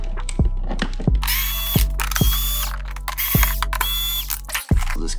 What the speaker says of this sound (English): I've got a little electric bit driver here.